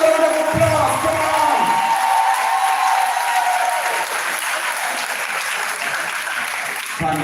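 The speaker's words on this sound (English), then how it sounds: "put your hands together for the graduating class" Applause and cheering for a 2024 high school graduating class, a large crowd clapping with whoops and shouts, loud at first then thinning slightly, with a voice over the start.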